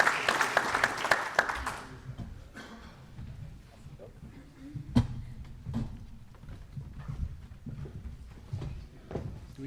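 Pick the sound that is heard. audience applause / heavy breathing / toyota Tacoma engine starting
audience applause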